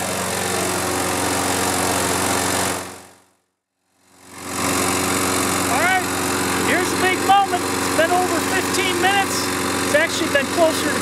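A lawn mower engine runs after a carburetor repair, a steady close drone that fades out briefly, then returns with the same even hum and light chirps over it.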